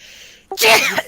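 A single sharp human sneeze, close and loud, with a brief quiet intake of breath and then a sudden explosive burst that fades quickly.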